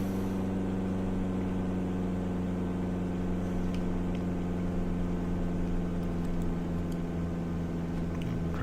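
A Mooney M20J piston engine in X-Plane 11 drones steadily as RPM is reduced, a constant harmonic hum with a slight drop in pitch near the end.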